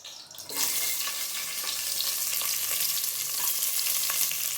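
Onion and green chilies frying in hot oil for peas pulao, a dense steady sizzle that starts abruptly after a brief quiet moment and holds loud and close to the end, with faint stirring clinks.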